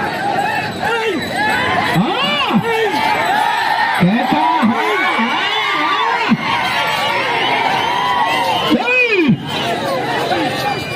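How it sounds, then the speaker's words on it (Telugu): Crowd at a village bull-pair pulling race in Nandimandalam, Pendlimarri, shouting, cheering and whooping loudly and continuously, with excited voices layered throughout and a few sharp whistles cutting through. "గట్టిగా విజిల్లు కేకలు కేరితలు"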